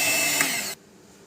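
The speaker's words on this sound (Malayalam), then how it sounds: "ഞാനിപ്പം ബീറ്റ് വെച്ച് തന്നെ ബീറ്റ് ചെയ്യണം." An electric hand beater whirs loudly and closely while mixing yellow velvet cake batter, a short steady high-pitched buzz that cuts off abruptly after under a second, leaving faint background noise.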